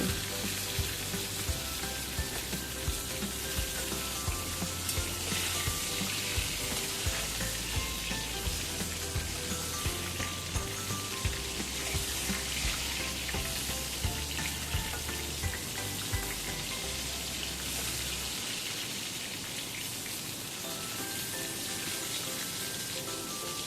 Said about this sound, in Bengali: পটলগুলো প্রথমে আমি ভেজে নেব